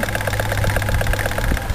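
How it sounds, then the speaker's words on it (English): A small steam engine powering a DC circuit runs with a steady, rapid mechanical chugging and knocking rhythm, loud and close, with no talk over it. "Now, if I was to turn off the steam engine,"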